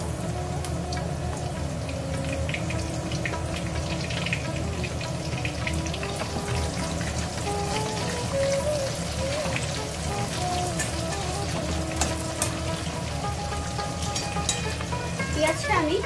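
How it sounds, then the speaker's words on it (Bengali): Chopped onions frying in a pan for a Bengali katla fish curry, a continuous dense sizzle with occasional spatula scrapes, steady and close. "পেঁয়াজটা আমি গোল্ডেন ব্রাউন হওয়া পর্যন্ত নাড়তে থাকব।"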